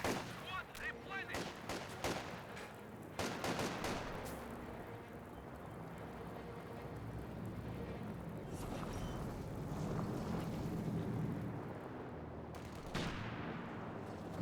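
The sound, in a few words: Grenadiers gunfire in video game Company of Heroes 2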